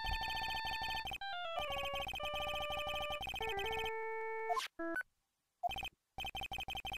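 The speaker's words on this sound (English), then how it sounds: "I have to say, particularly frightening ringtone." A synthesized phone ringtone from the Phoenix Wright: Ace Attorney: Justice For All video game, loud electronic tones playing a rapid organ-like melody in bursts, cutting off into short gaps of silence near the end.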